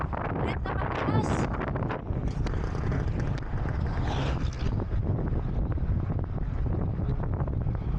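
Strong wind roars across the microphone during a long road bike ride in Rizal, a dense, loud, continuous rumble with some gusting and faint speech buried beneath it.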